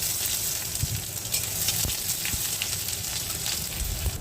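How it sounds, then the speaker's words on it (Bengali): Onion frying in hot oil in a wok, a loud steady close sizzle with small crackles and occasional stirring scrapes, no voices. "এরপর দিয়ে দেবো কিছুটা পেঁয়াজ"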